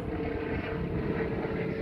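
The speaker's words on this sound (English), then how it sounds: "You're going to hear a lot of helicopters because I'm outside." Helicopters fly overhead outdoors near a stampede event, a steady low droning rotor roar filling the air at moderate volume without pause and with no talking.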